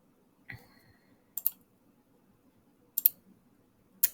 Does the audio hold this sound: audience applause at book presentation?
no